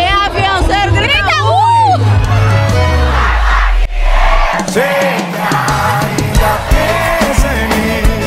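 A large forró concert crowd at an outdoor venue in Teresina, loud and sustained shouting and cheering with whoops and yells, mixed with a loud amplified band and voices throughout.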